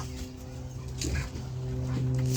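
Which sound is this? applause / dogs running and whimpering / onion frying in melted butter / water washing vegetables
dogs running and whimpering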